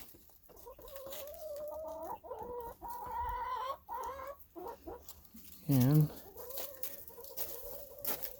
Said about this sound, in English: It's the running of the chickens.